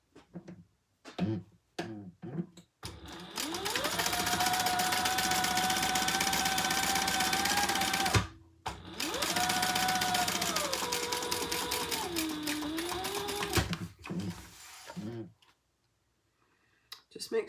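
A sewing machine top stitches a fabric bag in two long runs, its motor whirring steadily near the mic with pitch shifts, framed by clicks and handling knocks before and after.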